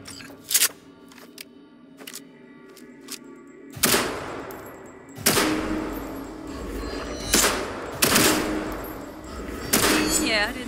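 Gunfire at a target practice range in the video game Cyberpunk 2077 comes as sharp single shots, then heavier spaced blasts with ringing tails, mixed with mechanical clicks and game voice dialogue.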